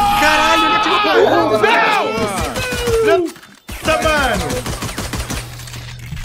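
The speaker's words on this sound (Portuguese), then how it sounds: "Caralho, ele atirou pra mim!" Gunfire in a shooter video game, a rapid burst of loud shots that breaks off briefly and then resumes, under excited, shouting voices.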